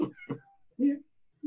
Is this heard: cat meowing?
yes